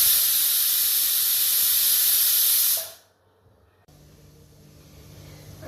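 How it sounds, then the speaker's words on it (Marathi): A kitchen pressure cooker whistle lets out a loud, steady hiss of escaping steam for about three seconds, cuts off abruptly, and leaves a quiet room with a low hum afterward. "आपल्या कुकरच्या शिट्ट्या देखील होत आहे"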